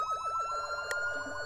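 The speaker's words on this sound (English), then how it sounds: "Please don't play our sirens." An emergency siren wails in a rapid, repeating rise-and-fall yelp, steady and moderately loud, with a high steady tone over it and a brief click partway through.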